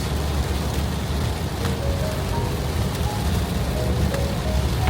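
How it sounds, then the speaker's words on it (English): Steady tropical storm rain falls heavily and continuously in Miami, a dense wash of noise with occasional faint tones beneath it. "What's up with this rain?"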